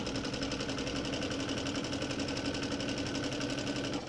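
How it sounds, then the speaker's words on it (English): A sewing machine running at a medium pace for free motion quilting makes a steady, fast mechanical chatter of needle strokes, close and even throughout with no pauses. "It's just a medium pace with your sewing machine."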